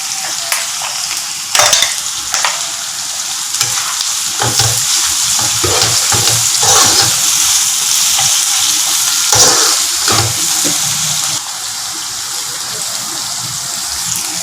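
Onions fry with a little salt for mutton biryani, making a loud, continuous close-up sizzle with intermittent stirring clatter and scrapes throughout, and no one speaking.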